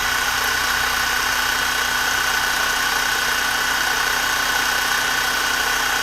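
An ALLSOME 400 Nm cordless impact wrench runs steadily at its second speed, a constant, loud, even motor whine with no change in pitch throughout.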